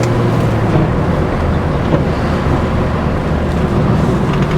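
An old Mini Cooper bought for £150 drives along with a steady, loud engine drone and road rumble filling the cabin throughout, with no talk.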